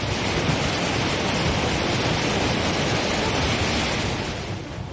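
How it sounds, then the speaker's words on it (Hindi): A river swollen by flood water in Pithoragarh district, Uttarakhand, roars with a steady, loud, dense rushing noise that runs without a break. "पहली तस्वीर में नदी में पानी का डराने वाला शोर है।"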